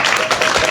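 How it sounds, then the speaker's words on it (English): A devotional gathering's audience claps in a quick, dense burst of applause, loud and close, lasting under a second. "Give a big round of applause."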